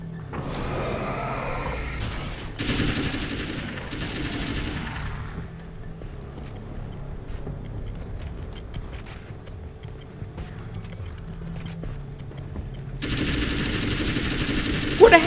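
Gunfire in the video game Alan Wake's American Nightmare comes in loud rattling bursts at the start and again near the end, with a quieter stretch between carrying faint mechanical noise and scattered sounds.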